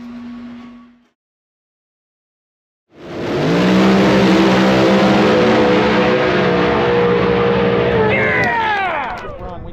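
A no-prep drag race car at Tulsa launches after a brief silence and roars down the strip at full throttle, loud and sustained for several seconds before fading as it pulls away; a voice is heard briefly beforehand.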